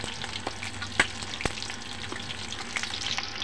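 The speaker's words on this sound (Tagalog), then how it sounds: "preto muna natin siya" Crispy pata, a pork leg, fries in hot oil with a constant close sizzle, broken by a few sharp pops and spatters.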